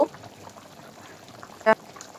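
Cold water poured over chicken pieces in a cooking pot for a Bengali country-chicken red curry, a faint, steady trickle with one brief louder splash near the end.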